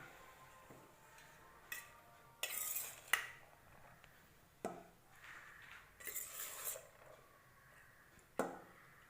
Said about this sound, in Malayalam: ഇനി ഇതിൻ്റെ മേലേക്ക് നമ്മൾ റൈസ് ഇട്ട് കൊടുക്കാം